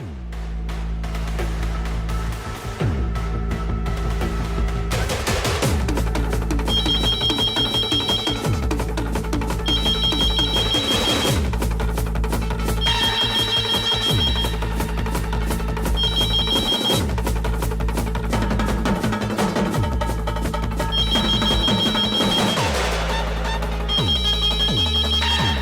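Landline telephone ringing inside a home, repeated electronic ring bursts in a steady on-off pattern over continuous loud dramatic music, no voices.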